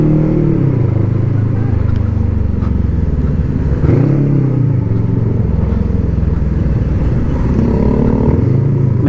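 A Voge CU525 motorcycle being ridden, its engine a steady loud drone close to the mic with repeated rises and dips as the rider shifts and accelerates, continuous for the whole stretch.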